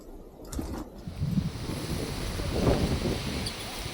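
Strong wind gusting across a 3500-foot mountain climb at Rangamalai, a steady broadband rush that swells louder toward the end, with no voices.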